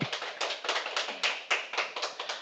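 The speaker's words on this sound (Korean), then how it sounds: "박수 부탁드립니다" Brisk, close clapping from a modest audience welcoming a presenter at a labor history discussion, a quick run of distinct claps over a couple of seconds.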